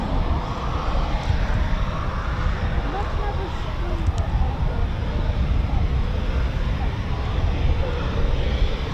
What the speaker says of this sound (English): The pilots requested a performance takeoff.